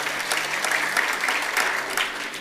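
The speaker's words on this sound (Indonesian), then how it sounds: "Tepuk tangan dulu boleh." An audience claps together in a dense, even wash of applause that holds steady throughout at a moderate distance, with no voices above it.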